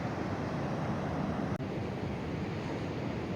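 Waves wash onto a beach at night in a steady, dense roar, carried along with some wind noise and rumbling continuously with no voices.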